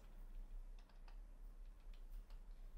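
Soft, steady typing on a computer keyboard, a quick run of light key clicks close by over a faint hum, with no one talking.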